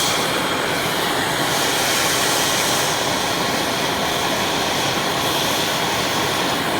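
Gas torches roar loudly and continuously while melting sterling silver for casting, a dense broadband blast that stays level throughout with no voices.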